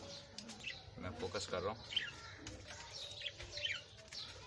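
A pair of Fischer's lovebirds in a breeding cage chirping in short, scattered bursts, with someone speaking quietly close by.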